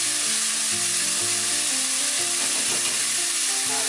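Onions sautéing hard in a hot pan for a Mediterranean-style sea bass dish, a dense, loud, unbroken sizzle and crackle heard up close with faint stirring underneath, no voices.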